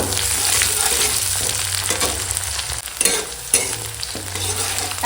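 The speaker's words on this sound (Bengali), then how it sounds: "দিয়ে দিলাম তেজপাতা দিয়ে দিলাম পাঁচফোড়ন ফোড়ন পেঁয়াজ ছোটো উপর সব একসঙ্গে ভেজে নেবো" Bay leaf, panch phoron and chopped onion fry together in hot oil for a fish curry, a loud continuous sizzle close up with repeated stirring scrapes and clinks of a spatula.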